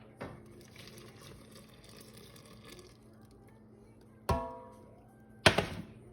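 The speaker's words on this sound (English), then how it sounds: "I have my hot milk and butter in the saucepan right here, hot milk and butter, and it's going into the batter." Hot milk and butter are poured from a saucepan into cake batter, giving a quiet liquid trickle. Two sharp metallic clanks from the pan ring out near the end.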